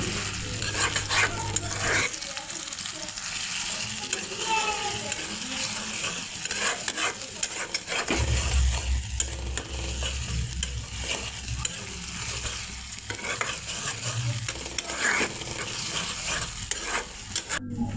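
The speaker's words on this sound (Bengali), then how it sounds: "গরম তেলে এই আধা বাটা পেঁয়াজ রসুন দিয়ে কিছুক্ষণ নেড়ে চেড়ে" Half-ground onion and garlic paste sizzles in hot oil for an egg curry while a spatula stirs it in scraping strokes. The frying hiss is continuous and close, with no voices.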